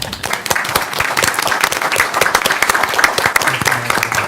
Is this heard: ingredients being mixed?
no